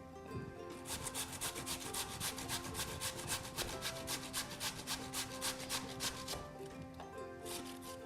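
Potatoes being grated by hand for potato pancakes, a steady rhythmic rasping of repeated strokes, close and fairly loud, with no talking.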